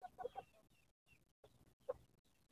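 Shamo chickens cluck close by on a farm in several short, soft bursts separated by brief silences.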